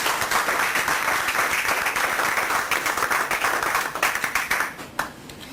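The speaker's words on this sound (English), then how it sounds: "Clap for yourselves here." A crowd applauding steadily, dense clapping that thins and tapers toward the end with a few scattered claps.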